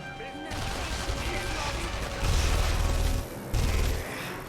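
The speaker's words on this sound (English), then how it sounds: "Tommy gun." A Tommy gun fires in The Saboteur, a World War II action game, in rapid bursts of loud gunfire with a short pause between the last two volleys, set against game ambience.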